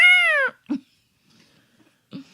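A cat-like monster roar from the film Terror of Mechagodzilla, a loud, wailing meow-like cry with strong harmonics lasting half a second, followed by brief soft thuds and near silence.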